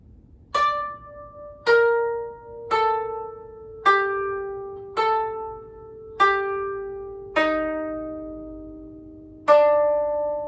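Plucked koto notes of the beginner piece Usagi (Rabbit), eight clear ringing strikes at a slow, even pace, each decaying before the next, played alone without talk.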